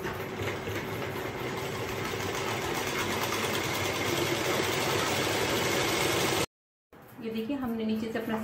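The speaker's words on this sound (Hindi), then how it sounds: "पहले हम नीचे से ये साइड की सिलाई यहां से लगा लेंगे।" A sewing machine stitches the side seam of an old pair of lower trousers, running in a steady fast whirring rhythm close by for several seconds before stopping, after which a voice talks.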